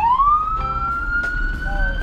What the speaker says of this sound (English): Wow, we got sirens?